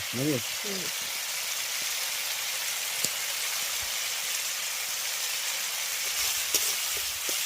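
Tadka masala sizzling steadily in a frying pan for egg tadka, a broad continuous hiss with occasional stirring ticks, while a voice speaks briefly near the start.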